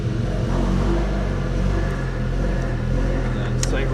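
A car with a DSG gearbox, in for a transmission service, has its engine started and then revved in a steady, loud, continuous rumble that swells and settles.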